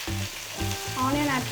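Curry leaves crackle and sizzle in hot oil with mustard seeds, a steady close frying hiss that runs the whole moment under a tonal musical background.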